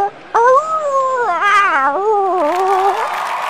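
A cat yowls in a long, loud, wavering caterwaul, its pitch rising and falling over several seconds against a quiet background.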